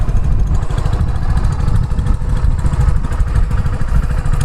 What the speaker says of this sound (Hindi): यहाँ पर हम सुन सकते हैं इसका एग्जॉस्ट नोट कैसा है आइडलिंग पर